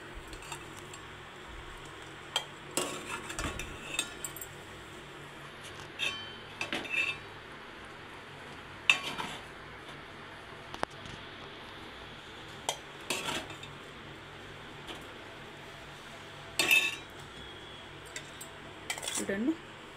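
Utensil scraping and clinking against a pan while brown bread snack pieces are mixed, in irregular bursts of metallic knocks over a steady low background hum, with no talking.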